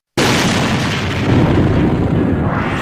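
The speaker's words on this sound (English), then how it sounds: "A nice fucking explosion" A loud explosion bursts in after a brief silence, then a sustained roaring rumble that swells and slowly decays over a few seconds, with no voices.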